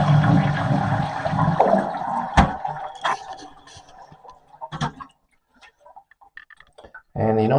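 A household toilet under repair, with its water supply turned off, is flushed. A loud close rush of water fades into a draining trickle and scattered drips, then a brief gurgle at the end.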